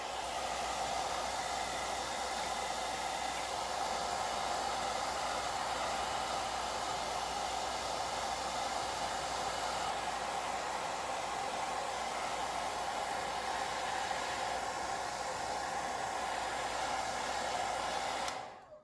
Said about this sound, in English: we're going to take the hair dryer to it and just give it a light